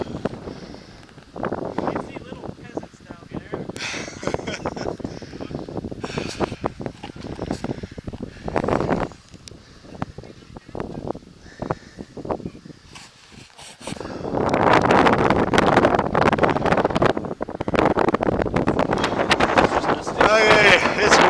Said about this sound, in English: Okay, it's windy up here.